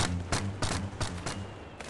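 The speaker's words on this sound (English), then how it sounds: "You can actually activate cannons using confetti cannons." Cannons firing in the video game Yeeps, a rapid series of sharp, loud booms about every quarter second, closely spaced like a volley, with no voices over them.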